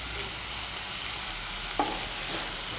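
Vegetables frying in a pan over high heat for chire pulao, a steady loud sizzle with a few brief scraping stirs near the end.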